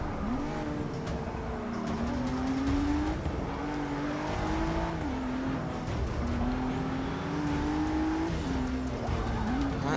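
A race car in Forza Motorsport 6 drives hard, its engine note rising and dropping through gear changes and braking, with tire squeal and skidding over a continuous loud roar.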